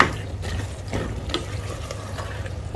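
Kerala-style butter sambar ingredients being stirred in a pot, a wet churning swish with soft scraping strokes repeating at a steady pace, close and moderately loud, with no voices.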